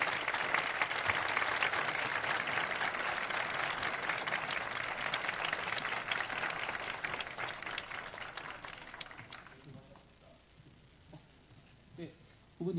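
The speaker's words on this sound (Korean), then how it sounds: "박수로 모셔주시겠습니다." An audience at a university lecture hall gives dense, loud applause to welcome a presidential candidate, continuing for about nine seconds before fading to quiet, with a voice briefly audible afterward.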